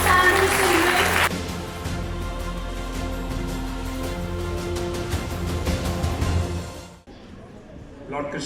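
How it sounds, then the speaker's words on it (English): Audience applause at an evening award ceremony for a Gita chanting competition, a broad sustained clapping wash that fades out near the end, mixed with talk and background music. "One last round of applause for these outstanding children."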